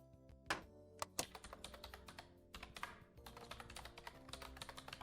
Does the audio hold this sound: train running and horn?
no